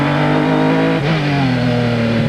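Indy Lights race car at Mid-Ohio heard onboard in fifth gear near 60 mph: a loud, steady engine drone with strong harmonics, its pitch dipping briefly around one second before holding on, with no talk.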